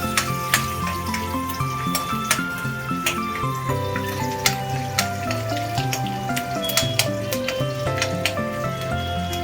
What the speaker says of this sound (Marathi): मिरची आणि कढीपत्ता हा तेल गरम केल्यावर टाकून घ्यायचा. थोडा परतायचा आहे तो.